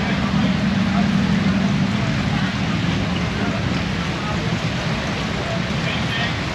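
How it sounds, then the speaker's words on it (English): Rain pours steadily at the Lone Star Rally 2024 motorcycle event, a dense, continuous hiss with a low rumble underneath that may come from idling bikes. "Rainy day at the rally."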